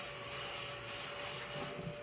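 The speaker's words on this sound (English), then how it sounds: "It's called a desk vacuum." Small desk vacuum cleaner running steadily nearby, a continuous motor whine with a fixed tonal hum and soft rubbing noise, heard alone without speech.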